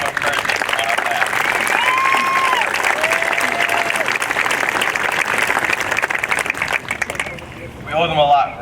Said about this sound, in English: Let's give them a round of applause now for all of those who encouraged us on our path.